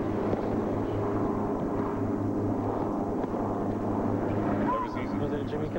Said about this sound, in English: That helicopter up there is, maybe it's a tournament helicopter